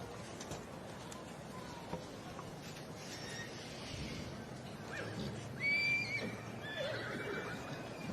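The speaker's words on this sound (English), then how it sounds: "So this is the junior stallion, 4 to 7. This is class 26 in the Welsh Mountain Ponies." Welsh Mountain Pony stallions in a junior class for four to seven year olds whinny in a show ring. One clear call rises above steady crowd murmur and faint hoofbeats.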